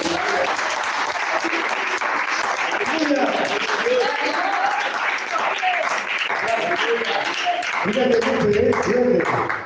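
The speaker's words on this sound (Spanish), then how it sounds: "El aplauso al Espíritu Santo." A church congregation of young people breaks into sustained applause that stays loud and steady for several seconds, with voices and cheering mixed into the crowd noise.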